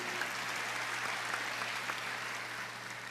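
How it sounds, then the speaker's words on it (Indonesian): A church congregation applauds during a sermon, a steady dense patter of clapping held at a moderate, somewhat distant level throughout. "Tepuk tangan."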